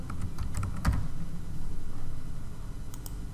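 Typing on a computer keyboard while setting up a Telegram bot, a few close, quick key clicks in an irregular run over a steady low background hum, no voices.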